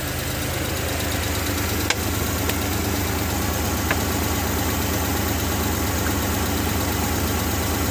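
Continuous steady idle of a small Suzuki F6A car engine, close and even, with a faint ticking rhythm and a couple of small clicks; the engine has had an overheating problem.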